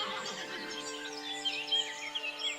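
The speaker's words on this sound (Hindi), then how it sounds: "लेकिन कीचड़ में घोड़ा फंस जाता है।" A horse stuck in mud whinnies, a shrill wavering neigh rising and trailing off, faint and fairly near with no talk over it.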